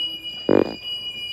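A fire alarm sounds briefly during a system test, a short buzzing pulse of about a fifth of a second over a steady electronic tone and low room noise.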